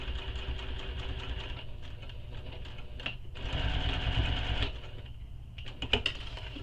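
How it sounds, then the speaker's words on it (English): A sewing machine hums and rattles as it stitches fabric beside a zipper in steady runs, briefly pausing and restarting, with a quicker burst of stitches near the end. "So now I'm going to sew between those marks."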